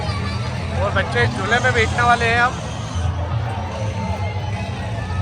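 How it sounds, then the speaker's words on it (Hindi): Crowd hubbub at an Eid fair in Sadar Bazaar, Khajrana, near electric swings, with a dense murmur of many voices and a louder nearby voice talking over it for the first half before it settles back into steady background babble. "इतनी भीड़ हो रही है यहाँ पे"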